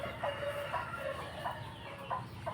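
A hen and her chicks in a backyard poultry coop give off soft, repeated clucks with short, higher peeping calls. The sounds come in a loose, steady rhythm at close range over a constant low background hum.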